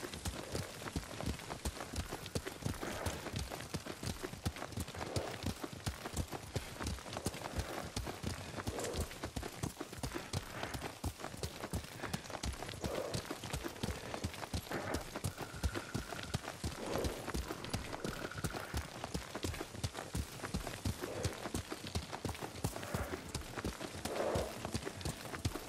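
Horse hooves galloping in the video game Ghost of Tsushima, a quick, steady clip-clop rhythm that runs unbroken under soft ambient texture.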